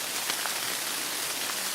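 Steady rain patters over a hunting camp, a dense, even hiss of drops close by with no voices.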